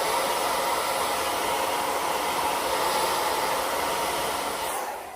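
A hair dryer blows steadily while drying hair, producing a loud, unbroken airy whoosh that stays constant before it winds down and cuts off near the end.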